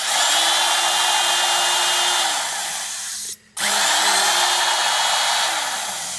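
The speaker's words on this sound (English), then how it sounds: "you not only need to pre-drill with this super ghetto fabulous drill here" A very old, worn power drill pre-drills a hole in a piece of wood, whining loudly and steadily for several seconds, cutting out briefly, then spinning up again and running on.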